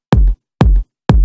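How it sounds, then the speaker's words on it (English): Three identical sub kick drum hits from a sample pack, unprocessed, each a deep boom topped by a sharp bright click, spaced evenly about half a second apart and heard alone. "you can hear that there's a lot of click on the top of that"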